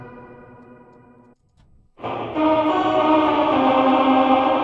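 A sustained electric guitar tone from an HX Stomp Plus and Mel9 pedal swells out of a brief gap, drenched in heavy reverb that smears the notes into a loud, washy drone.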